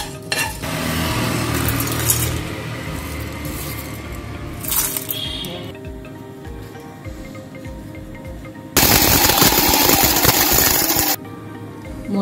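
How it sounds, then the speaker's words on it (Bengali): Whole spices, cloves among them, are lightly fried in a pan over medium heat with oil for a Kashmiri chicken kanti dish. Steady clinking, scraping pan and utensil sounds carry throughout, swelling into a louder sizzling burst near the end. "মশলাগুলো মিডিয়াম আঁচে ভেজে নেব, খেয়াল রাখতে হবে যেন পুড়ে না যায়।"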